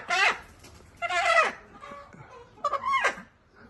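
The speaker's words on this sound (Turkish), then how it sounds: "kümesin en gözde tavukları bunlar mı teyze?" Three short bursts of hen clucking in a coop, close by, each a quick squawky cluster separated by brief pauses; the hens lay blue eggs.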